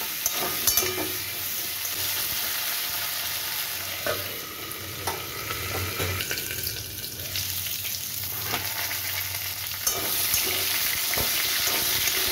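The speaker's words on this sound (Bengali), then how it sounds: "আমার আলুগুলো খুব ভালো করে ভাজা হয়ে গেছে।" Potatoes frying in a pan for a Bengali potato and pointed gourd dalna with coconut: a steady close sizzle throughout, broken by repeated scraping stirs of a spatula.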